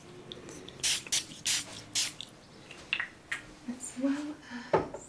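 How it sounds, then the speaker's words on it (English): A liquid spray bottle gives several short, sharp misting bursts in an uneven rhythm. Quiet background sounds and faint speech fill the gaps between sprays. "A little more spray."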